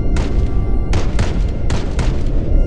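In Project Zomboid, bombardment rolls in as a loud, continuous low rumble with three heavier booming swells spaced about a second apart, and no voices.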